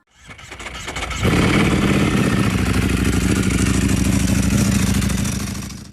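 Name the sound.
Kawasaki Z H2 motorcycle engine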